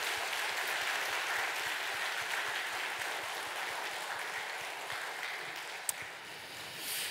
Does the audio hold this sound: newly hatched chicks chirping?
no